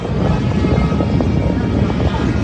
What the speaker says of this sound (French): Faut suivre en fonction de l'hélicoptère, tu vois.